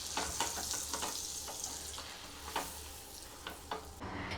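Bread slices roast in butter in a pan with a soft, continuous sizzle, and light scraping or stirring taps recur every second or so. The sound is quiet and close, with no talk.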